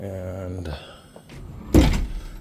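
A double-door closet in a house bedroom is opened, giving a soft sliding rumble and then a sharp thump of the door at the end, close and fairly loud; a voice speaks briefly before it.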